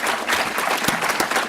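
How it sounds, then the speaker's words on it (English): Brief audience applause at the close of a conference session, a dense, even wash of clapping with a couple of sharper claps standing out. "let's give Mark a round of applause"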